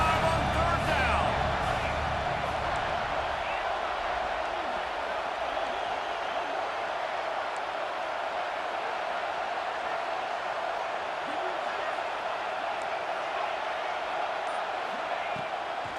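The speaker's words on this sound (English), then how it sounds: "The Buckeye crowd alive on third down." A stadium crowd roars in EA Sports College Football 26 during a third-down play at an Ohio State home game, a broad steady wash of cheering that persists throughout beneath play-by-play commentary.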